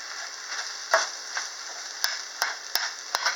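Beef fried rice sizzles in a skillet on a stovetop burner set high, a steady close frying hiss broken by several sharp scraping stirs and clinks, with no talking.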